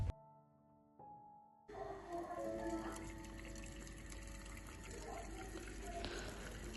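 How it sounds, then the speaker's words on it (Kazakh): Boiling water pours into glass jars of plum compote, a sustained gushing splash that starts abruptly after a brief quiet clink, then keeps flowing at close range with small shifts in pitch. "қайнап тұрған суымызды жартылай етіп құйып шығатын боламыз"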